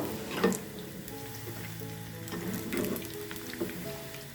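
Chana dal fritters sizzle in hot oil with a steady crackling, popping hiss, close and moderately loud, with a few sharper spatters and no talking.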